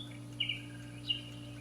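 An Odokee digital alarm clock plays its bird-song alarm: a few faint chirps and tweets over a steady electrical hum, with two quick calls followed by a single later one.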